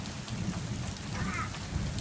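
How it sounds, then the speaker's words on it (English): Steady rain falls on surfaces outdoors, a dense continuous patter; a faint low rumble of thunder is hard to make out beneath it, with no talking. "Wow, and thunder."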